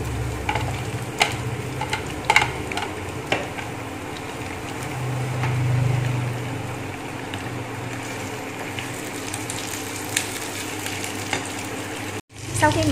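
Fish balls, Vietnamese pork sausage and tofu hit a pan of golden fried garlic and onion, giving a loud, steady sizzle with scattered stirring clatters that fades and then cuts out near the end.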